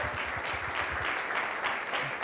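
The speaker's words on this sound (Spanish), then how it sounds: "Dale ese aplauso al Señor." Steady, dense applause from a large church congregation, a continuous wash of clapping that stays loud and even throughout.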